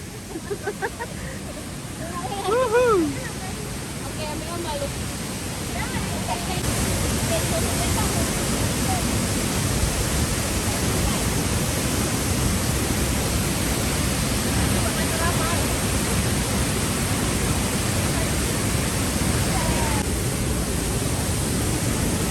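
A waterfall in Tambunan, Sabah, Malaysia roars steadily and loudly nearby, with voices briefly audible over the rushing water early on.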